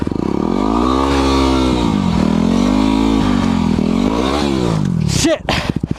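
A Yamaha WR250R dirt bike engine revs steadily in snow, its loud drone rising and falling in pitch before cutting out abruptly with a clatter and scrape as the bike goes down.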